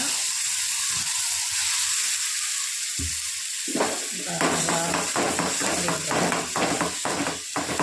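A loud, steady sizzle of ground paste hitting hot oil, with stirring and scraping sounds building up partway through.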